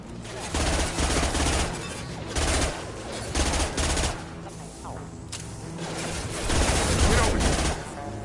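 Rapid bursts of gunfire from the Mass Effect 2 video game, sustained volleys and overlapping shots with pauses between waves, loud and dense under a continuous game soundscape.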